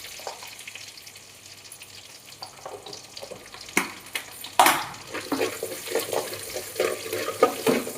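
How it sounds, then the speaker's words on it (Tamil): Mustard seeds, urad dal and curry leaves hitting about two spoons of hot oil in a pan, a quiet sizzle that jumps into louder crackling and spattering midway, with stirring clatter and intermittent pops throughout. "ஒரு வானலில் ஒரு 2 ஸ்பூன் எண்ணெயை ஊற்றி கடுகு, உளுந்து, அதுக்கப்புறம் நாம் கருவேப்பிலையை போட்டுக்கலாம்"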